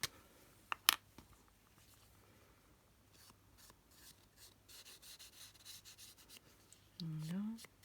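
Ink is rubbed onto the edges of a paper card, producing quiet, repeated dabbing and scraping strokes, with a voice heard briefly near the end.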